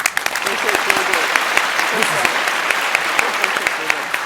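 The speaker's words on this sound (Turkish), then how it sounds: "Hadi Tuğba Hanım'ı alkışlayalım." A TV word-game studio audience claps for a contestant, a loud, continuous burst of many hands lasting around four seconds, with a host's voice faintly audible beneath it.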